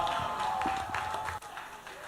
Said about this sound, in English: one more time, a round of applause for Eric Guga